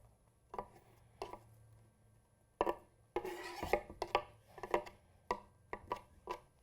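Diced vegetables scraped off a cutting board into a bowl in a home kitchen, heard as a series of short, close scraping and knocking strokes in uneven bursts, with a longer scrape partway through and no talking.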